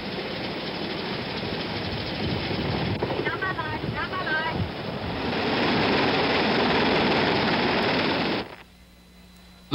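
Evacuation helicopters during the 1975 fall of South Vietnam, a loud continuous rotor and engine roar in rough archival sound that swells midway, with brief voices in the noise, before cutting out abruptly near the end.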